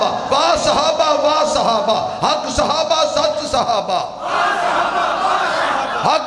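A crowd at a religious gathering chants slogans in rhythmic call and response, with loud massed voices rising and falling in repeated phrases.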